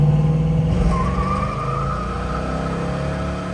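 A 1970 Dodge Challenger R/T convertible engine revs hard under load, loud and continuous, with a rising pitch and a steady roar, and the engine is pinging.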